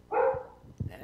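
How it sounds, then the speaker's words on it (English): A dog barks once, loud and clear, then a shorter, lower woof follows a moment later, heard over a phone line during a live radio show. "The dogs are vocal tonight ever since you did that flute"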